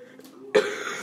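A single person coughs once, a sudden loud burst after a quiet stretch of room tone, with a brief second onset at the very end, recorded close in a classroom-style setting.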